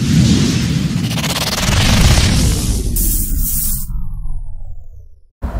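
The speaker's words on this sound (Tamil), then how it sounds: "வெடி மேல போய் வெடிச்சு டிஸ்பிளே காமிக்கும்." An aerial firecracker from Sivakasi bursts overhead, a loud sustained rumbling boom with crackling that trails off over several seconds, ending in a brief quiet gap and a last small pop.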